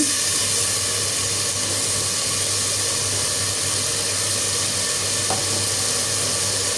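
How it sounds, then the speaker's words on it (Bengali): Spice paste for beef curry cooking with a splash of water, giving a loud, continuous, close sizzle and hiss with a faint steady hum beneath it. "একটু পানি দিয়ে মশলাটাকে খুব ভালোভাবে কষাতে থাকব"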